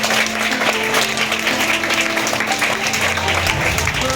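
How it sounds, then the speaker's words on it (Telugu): Students at a school election clapping for a candidate, dense continuous applause from a crowd filling the whole moment, loud and steady with voices mixed in. "క్లాప్స్ కొట్టండి హిమకుమార్కి"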